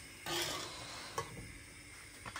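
Balmoș with sour cream is stirred in a pot, a low steady scraping and bubbling with occasional soft knocks of the spoon against the vessel, close and quiet, with no talking.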